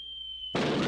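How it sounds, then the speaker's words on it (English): An artillery barrage from the 1985 film Return of the Living Dead erupts as a sudden loud blast that cuts off a thin steady high tone and keeps roaring to the end. "The explosions hit Louisville at 5 in the morning"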